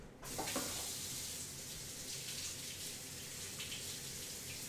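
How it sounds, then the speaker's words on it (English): A kitchen faucet runs in a steady, close stream as mud is rinsed off lobster claws, the water hissing continuously with no pauses. "rinse off the claws here real fast too"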